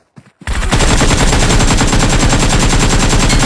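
Sustained rapid automatic fire from a Groza rifle in a battle royale video game, loud and continuous after a brief quiet start, with no talking.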